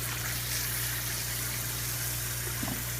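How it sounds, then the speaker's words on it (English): A steady stream of water pours and splashes into an aquaponics tank through a slit-cut pipe, a constant rushing wash over a low, even pump hum, with no voices. "flow there hitting the water, just to increase oxygen"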